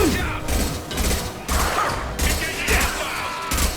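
Enemy turret fire in the sci-fi shooter Mass Effect 2, heavy rhythmic bursts of automatic shots pounding in close, loud pulses with short gaps between volleys.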